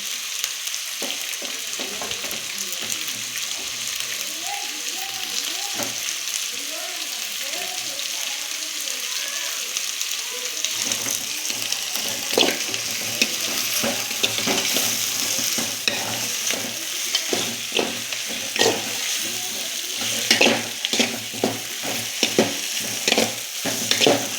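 Chopped onion and tomato fry in oil in a pan while being stirred, giving a steady close sizzle with scraping and stirring clatter that grows busier and louder partway through, during preparation of rava upma.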